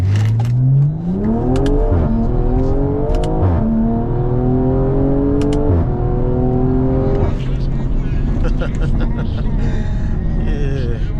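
A tuned 500 hp BMW M340i makes a hard 0-60 launch, its engine note rising steeply through the gears with loud, close revving and brief dips at each shift, then settling into a steady roar.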